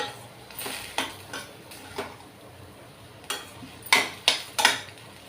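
Spoon scraping and clinking against a metal pan while coriander and cumin powders are mixed into a brinjal and green pea curry, with several separate close knocks spaced irregularly and more clustered strikes toward the end.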